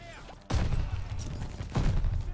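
Gunfire from a weapon in the Call of Duty: Vanguard campaign, two loud close bursts of shots with a gap between them and a steady bed of game noise underneath.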